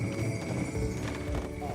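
Hooves of horses used for horse-drawn sleigh and carriage rides on a rural property in Georgian Bluffs, a 12-year-old gelding and a 12-year-old mare, clopping steadily close by with a voice talking over them.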